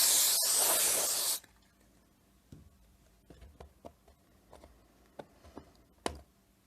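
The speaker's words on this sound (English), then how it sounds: "So first I'll just give it a nice spray." A loud hissing burst of spray cleaner onto a Dell Latitude E6430 laptop lasting about a second, followed by quiet scattered ticks and handling taps.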